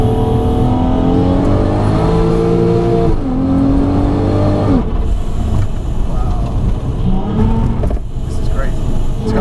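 A 500 bhp supercharged Volkswagen Golf R32 engine accelerates hard from inside the car, loud and continuous with rising, then dropping engine tones through gear changes.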